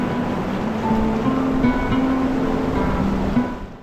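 The Astore river, clear water flowing down from the Burzil Pass snows, rushes as a steady, dense broadband wash close by, with a faint low hum running beneath it.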